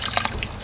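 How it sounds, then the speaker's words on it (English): Sparge water pouring and dripping as it rinses sugars from mashed grains while home brewing a butternut squash ale, a steady close splashing trickle with brief drips and no talk. "I'm rinsing all the sugars out of the grains, and you want your sparge water to be right below 168."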